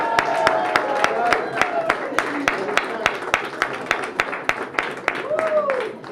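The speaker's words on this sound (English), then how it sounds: "Applause, please." Scattered claps ring out as a small crowd applauds at a congressional campaign event, sharp individual hand claps in an uneven rhythm, fairly close, with some voices underneath.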